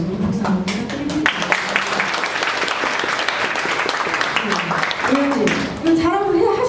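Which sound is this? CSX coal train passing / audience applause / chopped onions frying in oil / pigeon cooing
audience applause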